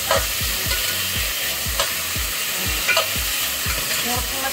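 Squash being stirred in coconut cream with shrimp paste over heat, a steady bubbling simmer and sizzle under a regular series of soft scraping and knocking strokes of a spoon in the pot, close and continuous with no talk.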